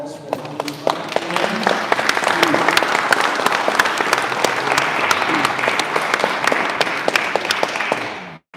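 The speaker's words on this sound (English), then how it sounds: "So I'd like to take a round of applause for" Audience applause at a live event in a hall, steady close clapping from a crowd lasting several seconds before it cuts off, with some voices mixed in.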